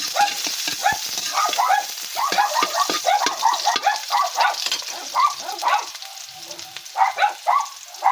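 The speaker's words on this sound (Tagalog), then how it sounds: "Gisa po tayo ng sibuyas muna. Mainit na yung ating mantika" Chopped onions sautéing in hot oil as the first step of Bicol Express, a steady hiss of frying under repeated yelping or chirping sounds nearby.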